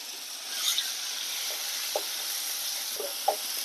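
Garlic, green chili and onion frying in a pan while being stirred for an ash gourd thoran: a soft, steady sizzling hiss broken by a few faint scrapes and clicks of stirring.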